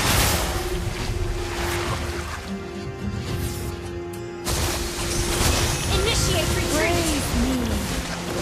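Ocean-wave skill effect in the Mobile Legends mobile game: a continuous broadband whoosh and surf wash through most of the clip, briefly thinning midway, with a steady tone and in-game voices over it.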